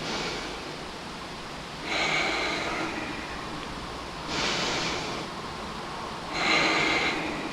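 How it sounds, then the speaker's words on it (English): Slow, smooth breaths during a hatha yoga leg and glute pose come through as three soft, airy swells, each a few seconds long, spaced evenly over a faint background hush. "Breathe smooth."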